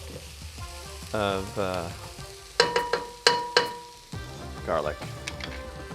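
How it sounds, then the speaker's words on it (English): Onions sauté in a pan with a bright, continuous sizzle and frying crackle, with sharp clatters of a utensil stirring partway through; a person talks over the cooking. "So these onions have been sauteing for about 5 minutes or so."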